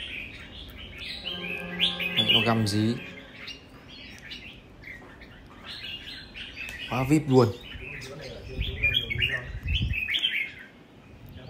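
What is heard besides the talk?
caged bird chirping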